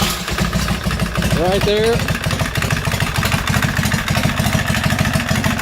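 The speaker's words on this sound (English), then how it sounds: "it now fires up every time with no clunk whatsoever." A Harley-Davidson big twin motorcycle runs at a loud, steady idle with a lumpy, regular beat close by, while someone speaks briefly over it.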